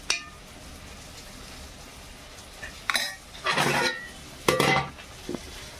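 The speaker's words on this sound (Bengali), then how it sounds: "মায়ের জন্য ভাত বেড়ে নিচ্ছি এখানে" Rice is served onto a plate, with close clinks of a metal spoon against dishes: a sharp tap at the start, then scraping scoops and two louder clattering bursts, ending in a light clink.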